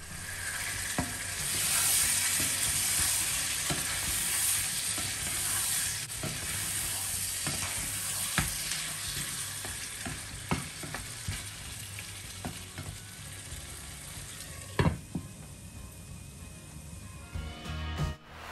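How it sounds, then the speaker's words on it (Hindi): Meat and onions frying in a pot, a steady broadband sizzle with occasional stirring clatter and spoon scrapes, close and loud throughout with no talking. "प्याज भून के तड़का भून के इसमें गोश्त डाल दिया था"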